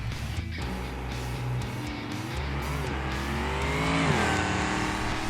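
Gavril Barstow muscle car in the BeamNG video game making a nitrous-boosted drag run, its engine roaring loud and close as it revs hard and climbs through gear shifts, with tire noise under the continuous drone.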